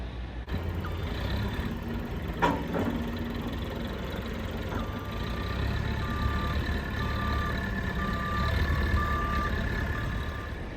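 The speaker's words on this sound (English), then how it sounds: "Time for the forklift to kick into action and start moving the chocks into place." A forklift idles and rumbles while shifting chocks into place beside a lorry carrying a boat, then its reversing alarm starts a regular run of beeps over the engine.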